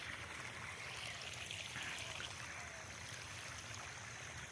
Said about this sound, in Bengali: এদিকে পাইপ দিয়ে এইভাবে ছোটোটার মধ্যে জল দিয়ে দিচ্ছি